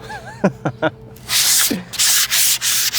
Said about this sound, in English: We'll start the sanding process, I think.